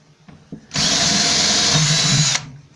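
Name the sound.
power drill boring a hole with a bigger drill bit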